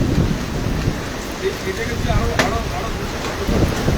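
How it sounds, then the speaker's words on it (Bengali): Heavy downpour in Rupnarayanpur, a dense, steady hiss of rain pounding surfaces nearby, with a sharper drip or splash now and then over the constant roar. "প্রচণ্ড বৃষ্টি হচ্ছে"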